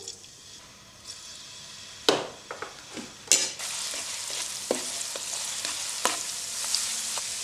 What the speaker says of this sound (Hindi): अब ऑयल को दोबारा से गर्म करके इसमें 2 खाने के चम्मच लहसुन का पेस्ट डालती हूँ।